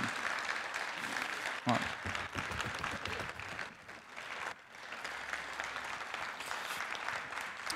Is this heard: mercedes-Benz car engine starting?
no